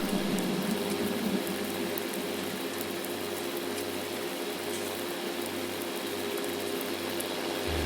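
Steady, even rain falls in Farming Simulator 19, a continuous soft hiss with a low engine-like hum running beneath it, no voices.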